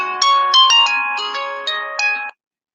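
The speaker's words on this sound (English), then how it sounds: "Phone keeps going off." A mobile phone rings loud and close with a bright melodic ringtone, several chiming notes in quick succession before it cuts off abruptly.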